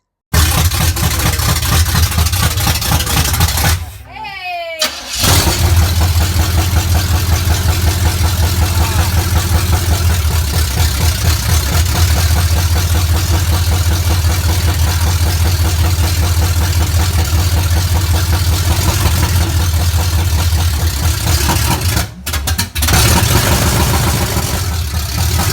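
Old truck engine idling steadily and loud after a carburetor adjustment, a continuous low rumble with two brief dropouts.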